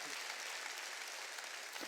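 Church congregation clapping during a Wednesday worship service, a steady faint wash of many hands that holds evenly for a couple of seconds with no clear voices on top.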